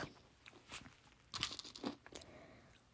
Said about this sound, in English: I'm eating my Cheerios. Sorry if it's a little loud.